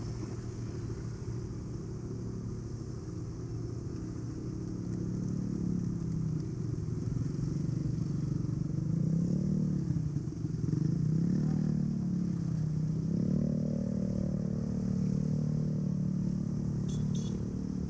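Street noise from a traffic jam, with the steady rumble and clatter of motorcycles and cars idling and creeping along nearby, continuous and fairly loud, swelling slightly toward the end.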